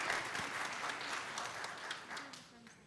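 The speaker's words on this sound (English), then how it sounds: "We applaud." A church congregation at a Sunday worship service breaks into applause, a dense wash of clapping that keeps up steadily for a few seconds at moderate volume.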